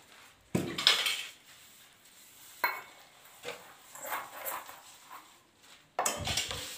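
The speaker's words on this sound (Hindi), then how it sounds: "ये बर्तनों की सफाई हो रही है।" Utensils being hand-washed with a mix of ash and detergent powder: scattered clinks and scrapes of dishes and cutlery in separate bursts, with quiet gaps between them.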